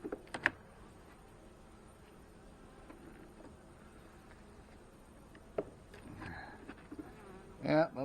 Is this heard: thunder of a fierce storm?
no